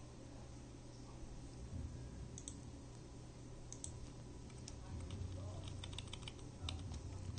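Keyboard shortcuts are pressed on a computer keyboard during SAP data upload work, giving faint, sparse clicks and short bursts of key taps over a low steady hum in a quiet room.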